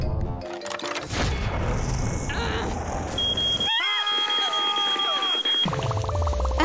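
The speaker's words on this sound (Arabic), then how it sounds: "أهو انذار الحريق." A fire alarm in an animated scene sounds as one steady, piercing high tone lasting a couple of seconds, set amid busy music and sound effects.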